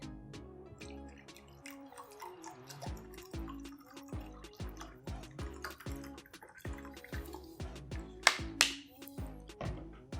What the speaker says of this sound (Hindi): तो यहाँ पर इस बोतल के अंदर मैंने फ़िल्टर वाला पानी जो है वो रखा हुआ है, तो इसको हम इस गिलास में डाल देते हैं